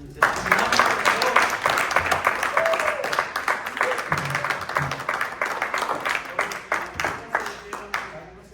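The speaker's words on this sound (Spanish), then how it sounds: "Denle un aplauso al Señor." A church congregation claps and cheers for the Lord after a sermon, the applause a dense, steady clatter of many hands lasting several seconds, with a few voices mixed in.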